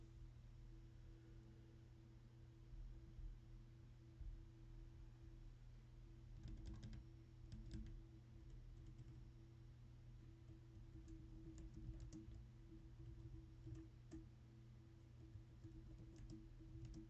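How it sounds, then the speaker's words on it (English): Computer keyboard typing in scattered bursts of soft clicks, fairly faint beneath a steady low electrical hum, with no one speaking. "You like the keyboard sounds?"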